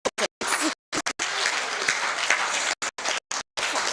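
Audience applause at an ear, nose and throat nurses' conference, loud bursts of clapping broken by several abrupt silent gaps, as if cut in and out.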